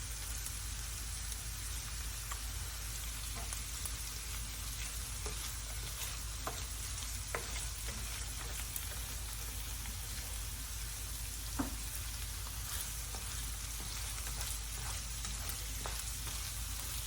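Onions, spices and seasonings sizzle steadily in hot oil in a pan for an Amatriciana tomato sauce, with occasional stirring scrapes and soft clicks over a constant frying hiss.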